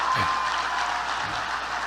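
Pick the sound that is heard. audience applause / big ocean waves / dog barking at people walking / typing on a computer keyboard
audience applause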